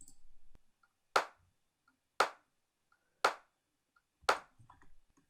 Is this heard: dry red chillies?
no